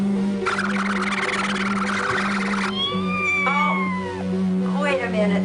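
A cat meows several times in a film scene, clear, rising and falling calls following a stretch of broad hiss over a steady low hum.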